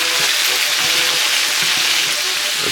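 Meat for a Sicilian meat sauce sizzles steadily in a hot pan, a continuous close frying hiss with soft scrapes and clinks as the pieces are stirred and turned.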